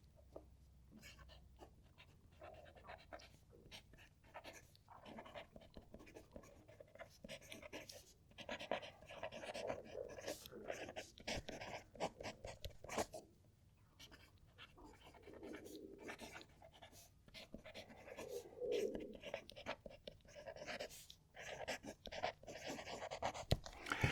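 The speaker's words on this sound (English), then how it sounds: "We've got a nice sound to this when it writes, but it's like it's whispering to me." A Benu fountain pen writing on paper: faint, soft scratchy strokes of the nib, close but very quiet, running in short continuous bursts throughout.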